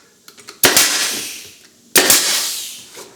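Crown molding being nailed in place with a nail gun: two loud, sharp pneumatic shots about a second and a half apart, each followed by a ringing decay, with a few light taps before the first.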